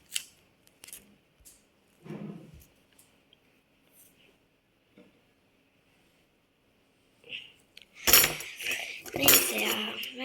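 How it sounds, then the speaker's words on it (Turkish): Scissors snipping through a piece of paper during a children's craft: scattered faint clicks and small handling noises, then a burst of louder, close crisp cutting and rustling near the end. "şunu aldım kestim bir parça"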